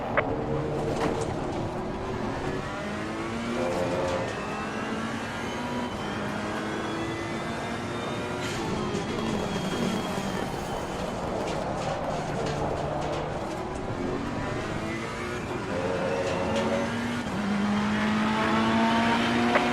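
Race cars in a racing video game lap Donington Park, engines droning continuously with rising and falling pitch as they accelerate and shift. Several cars are heard at once, loud and steady, with no talk.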